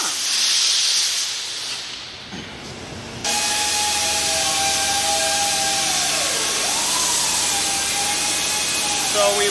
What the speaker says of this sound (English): We're cutting this bolt here.